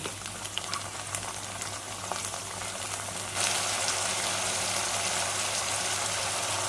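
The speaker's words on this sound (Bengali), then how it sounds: "পেঁয়াজ লাল করে ভাজা হয়ে গেছে, এবার যে মশলাটা পেস্ট করে রেখেছিলাম সেটা দিয়ে দিচ্ছি" Spice paste hitting browned onions in hot oil for a catla fish curry, a steady frying hiss that jumps suddenly louder and denser halfway through, then holds constant, with no voices.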